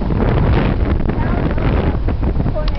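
Strong storm wind at Ormond Beach buffets the microphone in a loud, continuous roar with gusting surges and no pauses.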